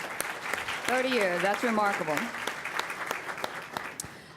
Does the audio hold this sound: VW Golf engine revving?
no